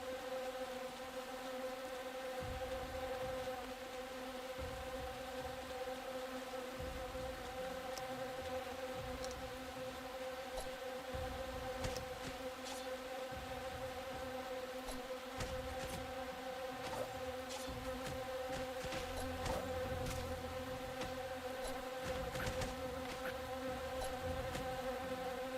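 Steady insect buzzing from bees in a video game, a continuous droning hum with layered tones and faint clicks over a low rumble, moderately loud throughout with no talking.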